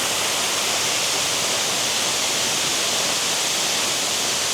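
A waterfall in Arkansas pours into the pool at its base with a steady, dense, close roar of rushing water that never pauses, and no one talks.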